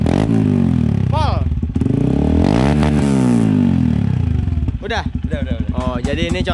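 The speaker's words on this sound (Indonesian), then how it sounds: "Oh, jadi ini contoh suara knalpot yang adem dan manis kalau kata Repdi." A motorcycle fitted with a new custom aftermarket exhaust, with a deep engine note that is revved hard several times, rising and falling in pitch, loud and close, ending in choppy throttle blips.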